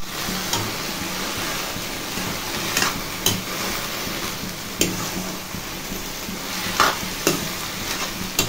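Leafy greens frying with garlic in a pan, a steady sizzle broken by several sharp scrapes and clicks of stirring, close and alone without talk.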